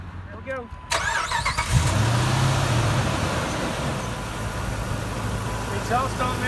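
A 2003 Jeep with a Hemi engine cranks and fires up close by, settling into a loud, throaty idle, with a person speaking over it.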